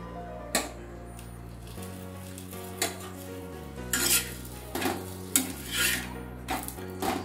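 Sweet corn rolls frying in a little oil in a pan, with a soft sizzle, occasional scraping and clinking of a utensil, and a steady low hum underneath.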